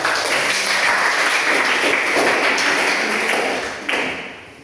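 Students in a classroom clap together in a dense, lively burst that holds steady for several seconds, then tapers off with a final few claps.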